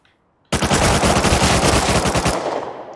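Automatic gunfire from an MP5 and an AK in the video game Rust Console Edition: after a brief silence, a loud, close, rapid burst of shots rattles for about two seconds and then trails off into echo.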